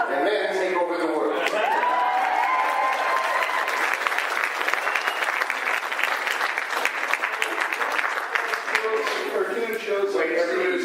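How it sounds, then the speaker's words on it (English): Sustained audience applause fills a Comicon panel room in Phoenix, a dense, steady wash of clapping from a large crowd with voices mixed in throughout. "everybody's clapping while you start your question"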